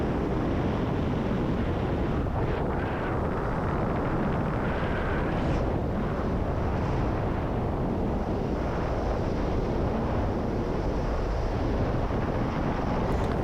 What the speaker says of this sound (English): The wind makes it sound like I'm going really fast, but paragliders are pretty slow.